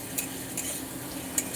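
Spice paste for sankol fish curry being stirred and fried in a pan, a faint steady sizzle with a few light utensil scrapes against the metal.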